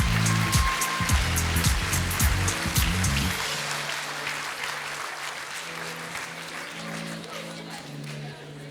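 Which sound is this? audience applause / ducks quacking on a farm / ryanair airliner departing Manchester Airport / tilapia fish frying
audience applause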